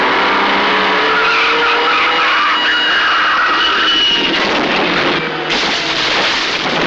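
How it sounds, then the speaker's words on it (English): Tires squeal and skid loudly through a car chase in an Italian vigilante film, with racing engines and drawn-out screeching slides, followed by a sudden louder burst near the end. "The film opens with a very well done car chase sequence that has all the speed and crashes that we want in a car chase"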